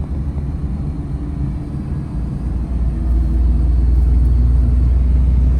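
A car accelerating along a highway during a driving lesson, with a steady low engine and road rumble that swells louder midway and then holds a constant drone, no talk.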